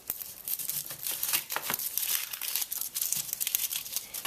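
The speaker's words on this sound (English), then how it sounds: "we're going to first cut off both ends of our onion" A knife slices both ends off an onion on a cutting board, giving a close run of crisp, crackly cuts and rustles that crunch along without a break.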